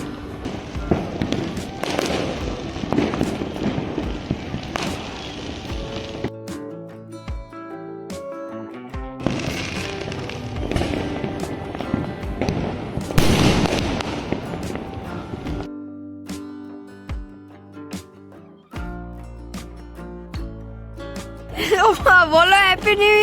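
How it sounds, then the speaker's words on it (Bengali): New Year fireworks and firecrackers burst in repeated bursts of crackling explosions, some distant and some nearer, with music and chatter running underneath throughout. "তো চলো একটু দেখতে থাকি বাজি ফাটাগুলো"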